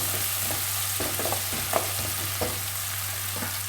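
Masala sautés in a pan for Chettinad paruppu urundai kuzhambu, a soft continuous frying sizzle with light stirring clicks under a low steady hum, no speech.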